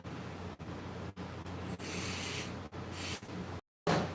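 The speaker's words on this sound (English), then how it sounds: "I'm going to spray a little bit of carburetor cleaner in there to clean it out." Carburetor cleaner sprayed into an airbrush in a workshop: two short, close hissing bursts of aerosol spray over a low background hum.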